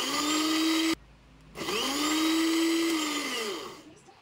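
A blender whirs loudly blending beef and bone broth, cuts off briefly, then spins up again and runs steadily before winding down.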